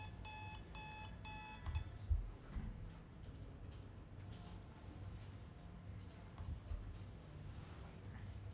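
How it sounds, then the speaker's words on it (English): An alarm clock sound effect plays from laptop speakers in a classroom, starting with a rapid repeating electronic beeping pattern for about two seconds before giving way to room noise and faint murmurs. "about to get deafened by an annoying alarm clock noise"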